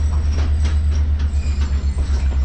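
Mohen Jo Daro passenger train in Sindh reversing slowly onto a platform: a loud steady low rumble of rolling stock with rhythmic wheel clatter and faint squeals, close by and continuous.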